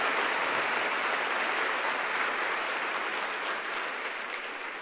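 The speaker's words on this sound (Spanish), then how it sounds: "Denle fuertes aplausos al Señor" A church audience gives loud, sustained applause for the Lord during a Spanish-language sermon, dense clapping that stays strong throughout and fades slightly toward the end, with no talk over it.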